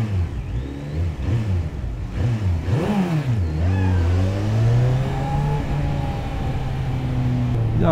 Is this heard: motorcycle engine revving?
yes